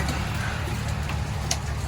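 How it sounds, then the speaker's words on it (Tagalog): Rain falling steadily around a house makes a continuous soft hiss, with a few faint ticks of drops landing on surfaces. "So, ay, umuulan talaga siya, guys."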